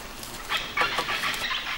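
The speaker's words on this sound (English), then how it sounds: "Can you hear the parrots?" Parrots call from the treetops in the jungle near a camp, a few harsh squawks and chattering cries at moderate distance over a light background hiss.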